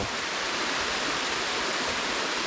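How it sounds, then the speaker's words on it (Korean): A small waterfall in a misty Irish woodland, a steady, close rush of falling water that holds an even hiss throughout, with no talk over it. "엄청 작은 폭포네요 폭포"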